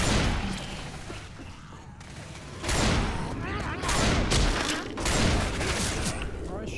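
Shotgun blasts in Left 4 Dead 2 during the Parish campaign, a run of loud, close booming shots in irregular succession with clattering game noise, players talking over the action.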